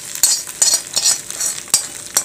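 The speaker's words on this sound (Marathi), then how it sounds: "तडका तर याच्यात टाकून घ्यायचा आहे चटणीवर हा सगळा" Mustard seed tempering poured over chutney and stirred in, a few soft scraping and sizzling strokes with light utensil clinks, close and alone.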